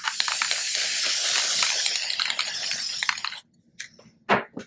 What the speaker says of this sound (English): And I'm going to come in and spray seal them